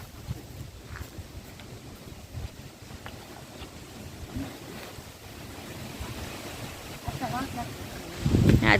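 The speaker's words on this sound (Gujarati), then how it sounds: "આજે પવન ઘણો બધો છે" Strong, cold wind at a cow shelter in Vadasar village roars steadily against the microphone in low, rumbling gusts that swell louder toward the end.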